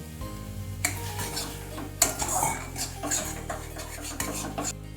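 Spice masala for chickpea chole masala, cooked in little oil and stirred with splashes of water: a spoon scrapes and clinks against the pan in repeated strokes over a soft sizzle, close and fairly loud, with no talking.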